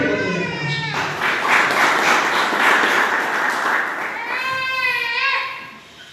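An audience at a book presentation breaks into applause, a broad wash of clapping lasting several seconds that builds and then fades, with voices heard at the start and near the end.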